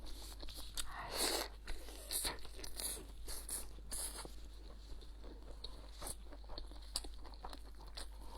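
Meat being chewed up close, with soft crunchy bites and wet chewing in irregular bursts, faint and intimate over a low steady hum.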